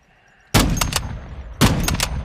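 Video game gunfire from Call of Duty Modern Warfare 2: two loud bursts of close shots, each a sharp blast followed by a couple of rapid follow-up cracks, separated by a short quiet gap.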